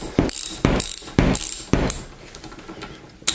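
A socket wrench ratchets off the lock nut on a skateboard wheel axle in four or five sharp, close bursts of metallic clicking, each stroke separated by a short pause.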